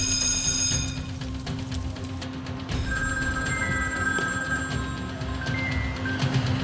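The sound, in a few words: fire alarm bell ringing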